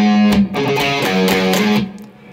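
An electric guitar picks out a song's bass line with a slightly distorted tone, several quick plucked notes in a short, close phrase that cuts off near the end.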